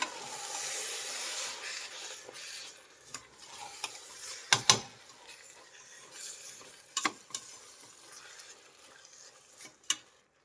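A utensil scraping and stirring soaked rice for tomato pulao in a pan over a soft sizzle, with several sharp clacks against the pan at irregular moments.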